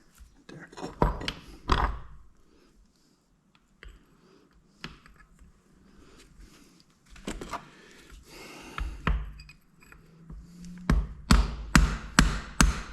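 A hammer strikes a small brass punch to drive off a Minn Kota G900 Amplitorq part, landing in separated sharp metallic taps and clustered blows, loudest toward the end, with brief quiet gaps and handling noise between.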